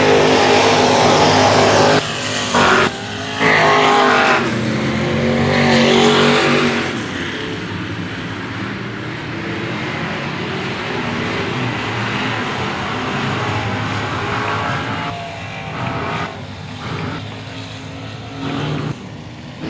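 Race cars on the final lap at Cotton Bowl Speedway roar continuously and loudly, engines droning and surging as the pack passes, with occasional short dips in level.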